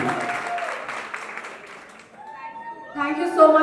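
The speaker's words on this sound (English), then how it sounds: "once again guys, a huge round of applause to Mahima Makwana and Ayush Sharma" Applause from a college audience at Thakur College, greeting actors Mahima Makwana and Ayush Sharma. The clapping washes under a speaking voice, fades, and then gives way to bright musical tones.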